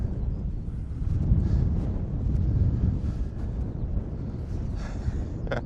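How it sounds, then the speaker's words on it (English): Strong wind on the Mam Tor hilltop in the Peak District, buffeting the microphone in a heavy, uneven low roar that swells and eases, with no talk. "Oh, it is windy."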